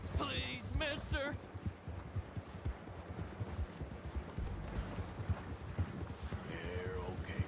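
Horse hooves clip-clop at a steady walking pace in Red Dead Redemption 2, a continuous near rhythm running beneath bursts of talking.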